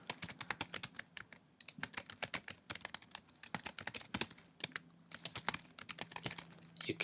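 Quick, light clicks of a computer keyboard as a song title is typed, irregular bursts of keystrokes with brief pauses, close and fairly quiet.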